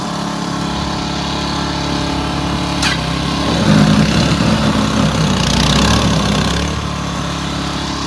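A Power Clear 180 four-cycle 87cc gas snow blower runs steadily close by, clearing slushy snow, its engine drone swelling louder midway with a brief squeal near the start.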